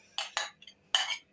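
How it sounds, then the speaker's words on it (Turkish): A spoon clinks and scrapes in a bowl while mayonnaise is stirred into a chicken burger sauce with corn and cucumber, giving three short bright bursts. "Şöyle güzelce karıştırdık."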